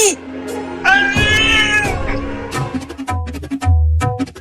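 A cartoon cat lets out a loud, drawn-out meow near the start, followed by shorter clattering and rustling sounds close by.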